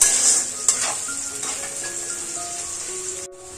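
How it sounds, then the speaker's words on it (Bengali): Chopped onion fries in a pan, a steady close sizzle with a few sharp clinks and scrapes of a spoon stirring against the metal. "এবারে দিয়ে দেবো কুচিয়ে রাখা পেঁয়াজ। পেঁয়াজটা ভালো করে ভেজে নেব।"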